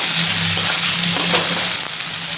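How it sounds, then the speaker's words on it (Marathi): Potato pieces frying in a pan with chillies for sabudana khichdi give off a steady, close broadband sizzle, with faint stirring scrapes partway through and no voices. "त्यामध्ये आपण टाकूया बटाट्याचे तुकडे आणि ते चांगले परतून घेऊया"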